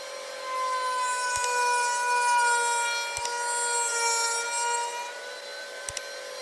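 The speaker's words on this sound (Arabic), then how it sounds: "على الراوتر تاني نركب بقى بنطة 4 مللي، وهنبتدي نحفر في نص طرف البرواز بس بميل أو بزاوية 45 تقريبا" A router fitted with a 4 mm bit cuts a groove at about 45 degrees into the edge of a wooden picture frame, a steady high-pitched whine with sustained tonal harmonics and a few faint clicks, loud and close, with no talking.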